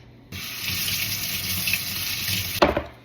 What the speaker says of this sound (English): we've got to wash these tomatoes